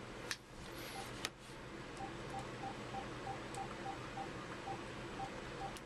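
Keypad tones on a landline being dialed, a steady run of short evenly spaced beeps, moderately close, over a busy hum of background noise, with a couple of sharp clicks near the start.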